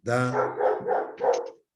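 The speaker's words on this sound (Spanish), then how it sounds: "Perdón por el perro, pero a esta hora se pone odioso." A dog barks once in a drawn-out, rough bark, loud and close, then lets out a few shorter follow-up woofs in the same breath.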